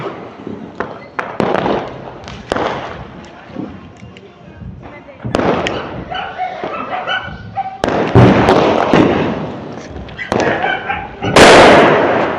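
Small firecracker bomb going off during Diwali fireworks on Bandi Chhor Divas, among sharp bangs and crackling bursts at varied distances, with dogs barking and people talking in the background.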